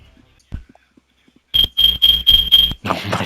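A smoke alarm sounds five loud, evenly spaced electronic beeps at close range, following a few faint sounds and ending with a brief burst of noise.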